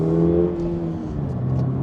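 Toyota GR 86 boxer engine revving, a strong tonal engine note that rises and holds, dips slightly, then climbs again, heard close and loud with no talking.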